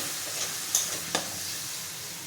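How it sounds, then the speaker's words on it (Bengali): Chili, cumin and coriander spice masala with a little water stirred and fried in a pan: a constant close sizzle with a couple of brief spoon scrapes, no talk. "এখন মশলাটা খুব ভালো করে কষিয়ে নেবো"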